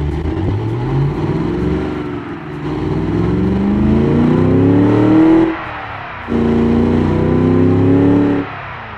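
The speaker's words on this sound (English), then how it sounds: "I know this exhaust now on this engine is producing good noise, as you can see, as you can hear right now." A tuned car engine with a modified exhaust revs repeatedly, pitch climbing under throttle then dropping off, with a short lull before another loud, sustained rev.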